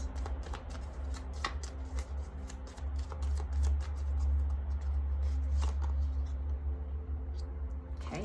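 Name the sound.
shuffling and drawing cards for a reading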